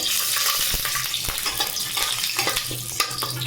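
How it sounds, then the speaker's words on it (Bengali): Peanuts fry in a pan, giving a continuous close sizzle and crackle. Faint stirring and clinks of the utensil sound against the pan now and then. "এবার আমি বাদাম ভেজে নেব"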